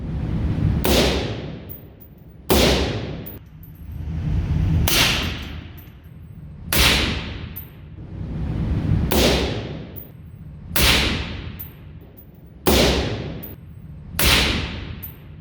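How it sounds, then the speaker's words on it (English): Suppressed gunshots from a 16-inch Daniel Defense DD5 V3 rifle with a Q Cherry Bomb muzzle brake and Q Trash Panda suppressor, about eight loud sharp reports spaced roughly two seconds apart, each trailing into a long rumbling decay, with no talking. "Comparing the sound of this to a Daniel Defense 16-inch DD5 V3 with a Q Cherry Bomb muzzle brake sporting a Q Trash Panda"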